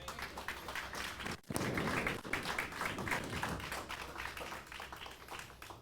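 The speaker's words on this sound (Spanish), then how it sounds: "Ahí cabe un buen aplauso." A church congregation breaks into applause during a sermon, a loud, dense wash of clapping that dips for a moment and then swells again, lasting several seconds.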